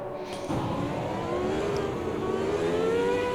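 Race car engines rev hard as the field gets away at the start of a Bathurst race, a dense, rising chorus of engine tones that jumps in loudness after a brief moment and keeps climbing in pitch.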